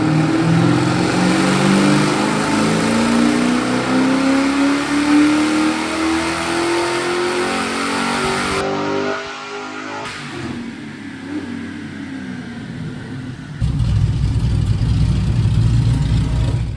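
A Pontiac Firebird engine revs hard during a dyno pull, a loud, steadily rising roar that climbs for several seconds, cuts off, then picks up again with a rougher, lower drone.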